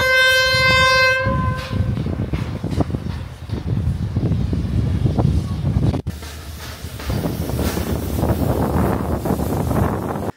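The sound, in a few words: steam locomotive passing with whistle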